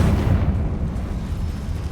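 The Confringo spell explodes in the video game Hogwarts Legacy with a heavy, rumbling boom that fills the moment and slowly rolls off, loud and bass-rich, with no speech over it.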